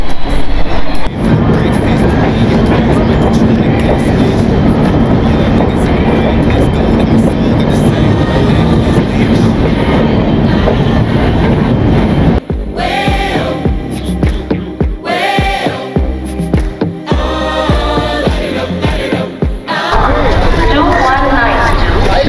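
Duronto Express train running from Secunderabad to Delhi, a loud steady rumble from inside the carriage throughout; partway through, voices and tonal sounds rise over the running noise.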